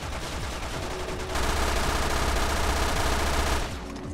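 Dense rapid gunfire at a wall in Resident Evil Revelations 2, a continuous burst of shots that grows louder partway through, then drops back, with no talking.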